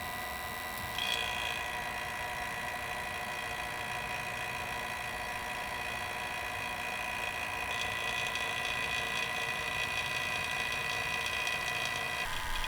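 Vacuum pump evacuating the refrigerant lines of a cheap 12V air conditioner, a continuous steady whirring drone with a constant tone that runs unbroken and fairly close throughout, no talking.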